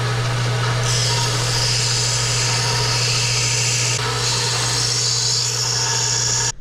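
A loud power tool grinds continuously against wood with a steady hum, its pitch rising and falling slightly as pressure changes, then cutting off.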